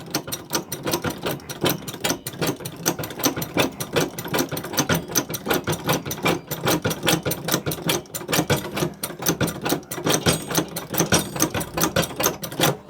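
Handle of a Vevor 2.5-ton hydraulic trolley jack pumped over and over, giving a steady fast mechanical clatter of ticks and clunks close by that runs without a break.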